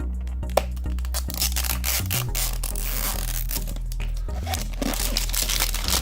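A Hairdooz Pastelz package being opened, its plastic wrapper crinkling and tearing up close in irregular bursts, with a sharp snap early on.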